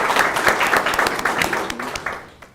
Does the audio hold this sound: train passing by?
no